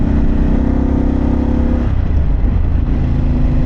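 A Harley-Davidson Pan America motorcycle with a Vance Hines exhaust out on the road, a loud, steady engine drone mixed with wind rush, the pitch dropping slightly midway.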